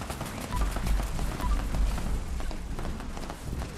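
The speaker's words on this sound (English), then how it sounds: "Over here, I'm shooting at him." Continuous gunfire in Fallout 76, a dense run of rapid shots over rumbling game sounds, steady and moderately loud throughout.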